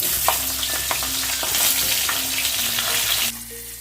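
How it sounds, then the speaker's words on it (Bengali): Eggplant pieces fry in oil in a pan, giving a loud, continuous sizzle with scraping and stirring, plus a few clicks toward the end, with no talk. "এবার আমি বেগুনগুলোকেও একইভাবে ভেজে নেব"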